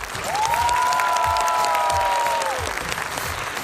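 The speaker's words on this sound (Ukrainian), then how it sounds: "ваші оплески, Міла Єрєвєєва." A studio audience at a Ukrainian television show claps in a dense, even burst, with a sustained musical tone layered over the applause before it fades slightly.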